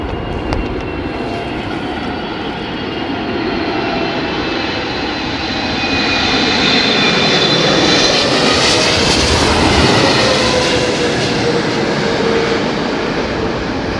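An airliner lands at London Heathrow in crosswind conditions, its loud jet roar holding steady and then swelling through the middle as it passes close, with a whine drifting across the noise and no voices.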